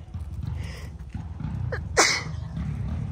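A single sharp sneeze bursts out near the middle, loud and close, over a steady low rumble of background noise.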